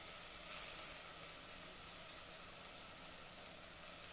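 Lentil and tomato curry sizzling in a pan over medium heat while being stirred, a steady soft hiss throughout with a brief louder flare near the start and no talking.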